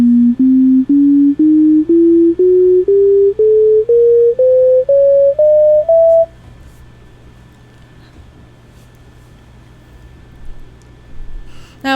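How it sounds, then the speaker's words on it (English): Rising series of twelve steady, evenly spaced synthesized tones stepping up the Bohlen-Pierce scale, thirteen equal divisions of the 3:1 ratio, played loud and alone, then near silence with faint noise. "And within that frequency ratio, it's 13 logarithmically even divisions."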